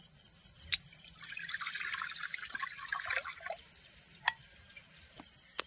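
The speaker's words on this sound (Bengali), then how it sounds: "এই কড়ার মধ্যে ডাবের জল একটা ছাকনির সাহায্যে ছেঁকে নেব" Coconut water trickles through a strainer into a pan, a faint, uneven dribble and patter with a few sharp taps, set against a steady high electrical whine.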